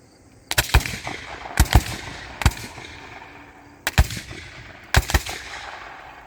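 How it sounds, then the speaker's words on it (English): Rifles fire by file at a live-fire Civil War reenactment by Steuart's Maryland Brigade at Gettysburg, Pennsylvania. About five loud, sharp reports come spaced a second or so apart, some in quick pairs, each ringing out across open ground. "Commence firing."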